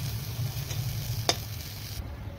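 Pointed gourd and eggplant fry slowly in a covered pan on low gas with no oil, giving a soft, steady sizzle and a single sharp clink midway.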